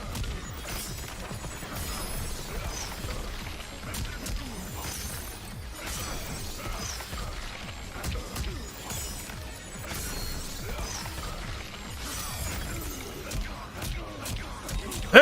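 Sub-Zero's combo strikes in Mortal Kombat 11 land as a dense run of crashing, shattering impacts and whooshes, loud and continuous over game music, with a voice talking throughout.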